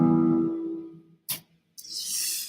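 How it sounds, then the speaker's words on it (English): A sustained musical chord with several notes ringing together, fading out, followed by a short noisy burst and then a hiss. "So you're hearing a chord. You're hearing a chord structure."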